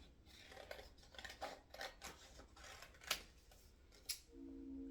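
Scissors snip through paper while a 4th of July craft shape is cut out, giving a run of close, crisp clicks and slices in an irregular rhythm, with a couple of sharper snaps standing out.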